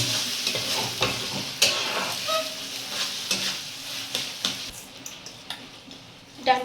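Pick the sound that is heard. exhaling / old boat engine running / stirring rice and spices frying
stirring rice and spices frying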